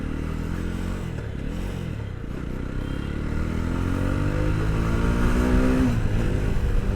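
A Jawa 42 2.1 BS6 motorcycle accelerates, its engine note climbing steadily through the revs, loud and close, with a brief drop and rise toward the end.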